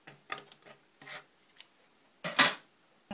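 Scissors snip through twill cord in a few quiet, separate cuts, with a louder, longer snip near the end and soft rubbing handling noise between them.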